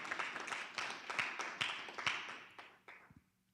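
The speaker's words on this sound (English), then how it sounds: "I thought we would clap hands for our university." A university audience at an inventors' forum claps hands together, a fairly sparse crowd giving irregular, distinct claps that fade out near the end, heard from a moderate distance with no talk.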